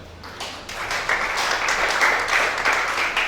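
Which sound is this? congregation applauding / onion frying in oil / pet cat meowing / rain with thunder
congregation applauding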